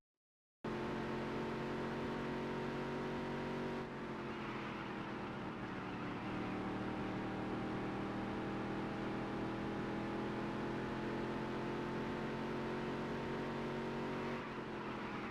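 A racing car engine in the video game Dirt to Daytona drones at high revs in a steady, sustained whine, dipping briefly as gears shift, loud and continuous with no talking.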